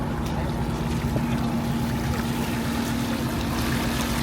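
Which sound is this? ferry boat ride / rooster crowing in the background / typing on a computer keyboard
ferry boat ride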